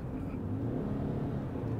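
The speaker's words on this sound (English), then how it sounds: "But immediately as you turn it into sport, it's a bit more peppy. The engine's a lot more loud." A 2023 Ford Maverick Lariat pickup in sport mode makes a steady, fairly loud engine drone with road rumble while driving, continuous and without talk.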